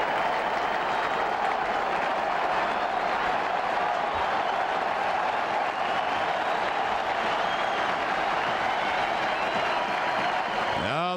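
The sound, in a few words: stadium crowd rising, cheering at World Series game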